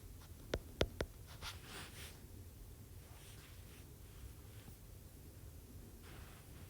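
Notes are written by hand during a science lesson on the parts of an experiment, with a few sharp taps early on followed by soft rustling strokes under faint steady hiss.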